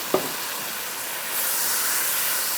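Kaleji masala, spiced liver, sizzles in a pan with a steady, close frying hiss, starting with a single brief knock of a utensil.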